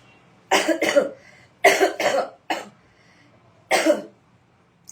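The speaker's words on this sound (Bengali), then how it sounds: "আবার কাশি হয়েছে" Four bursts of coughing, single and paired, loud and close in a quiet room, with short silent gaps between them.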